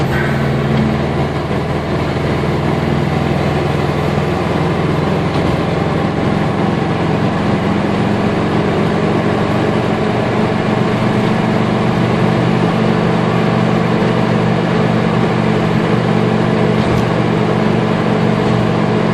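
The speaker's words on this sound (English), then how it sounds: "Car is running fine" Steady engine drone and road rumble from inside a car cruising along a highway, a constant low hum that stays even and continuous with no speech over it.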